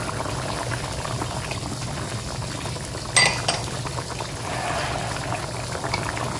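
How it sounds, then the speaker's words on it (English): Tilapia fish frying and simmering in a pan on a stove, a steady bubbling sizzle throughout with a brief clink of a utensil or pan near the middle. "If you can hear the simmering on the other side, that's the last fish that we're frying."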